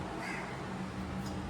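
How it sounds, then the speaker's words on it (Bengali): A crow near a roadside rice scrap caws faintly once or twice against a soft, steady outdoor background. "এই কাকটা এসে প্রত্যেক দিন ফড়িংয়ের পাতে যেটুকু ভাত থাকে খুঁটে খুঁটে খেয়ে যায়"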